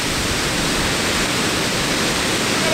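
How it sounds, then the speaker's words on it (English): Huge ocean waves crash on the Oregon coast, a loud, unbroken roar of surf and spray that holds steady throughout, close by, with no talking. "These waves are huge."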